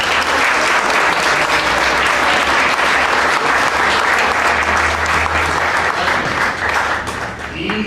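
Loud, sustained applause from an audience welcoming a speaker at a public forum on a draft constitution for Mexico City, a dense steady clapping that fills the whole stretch and eases slightly at the end.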